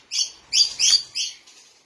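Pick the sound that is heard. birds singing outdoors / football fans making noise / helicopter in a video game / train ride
birds singing outdoors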